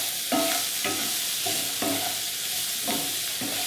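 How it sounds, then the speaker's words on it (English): Zucchini sautéing with salt and spices over high heat, a steady broadband sizzle broken by regular scraping stirs of the pan roughly every half second, close and alone with no voices. "Now the key with a sauté is cooking something over a high heat, but you have to continue stirring it constantly"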